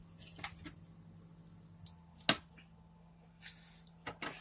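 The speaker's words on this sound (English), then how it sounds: "I'm going to add the fish" Pieces of fish are added to a Nellore fish curry gravy simmering in a pan. A few soft, wet squishes and plops come at scattered moments over a quiet background.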